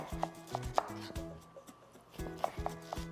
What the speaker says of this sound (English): Now let's cut the corn.